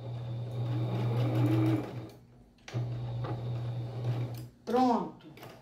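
A sewing machine stitches fabric for a placemat and tea-towel border in loud, steady bursts of motor whir, with a pause between runs, and a voice talking near the end.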